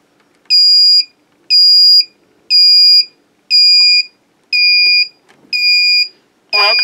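A drone flight controller powering up gives seven evenly spaced, loud electronic beeps about a second apart, each a clean sustained tone, with a brief noisy blip at the end.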